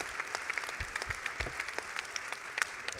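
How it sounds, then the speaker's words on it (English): Faint applause from a seated audience thanking a conference panel on a stage, a soft steady patter of scattered individual claps heard from a distance. "will you please applaud our excellent panel for their insights"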